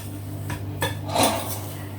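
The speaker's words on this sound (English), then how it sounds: "Just take the butter a bit at a time and stir it in to make" Butter being stirred into Oreo cookie crumbs for a no-bake cheesecake crust, heard as a few soft scraping clinks of a utensil against a bowl over steady low hum, with no talking.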